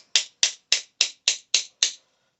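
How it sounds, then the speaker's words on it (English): Seven sharp, evenly spaced clicks ring out as the axle shafts of a Traxxas RC car are popped out one after another, each a crisp snap close by with a short decay, then quiet. "Pop out our axle shafts."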